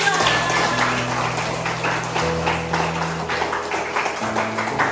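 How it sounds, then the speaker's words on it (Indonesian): A classroom of students claps for a presenting group, a steady rattle of applause throughout, with a low hum and faint tonal background underneath. "Beri tepuk tangan untuk kelompok"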